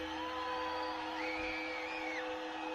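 A woman screaming, a high sustained wail that rises and wavers over a dense, steady background hum, with no speech over it.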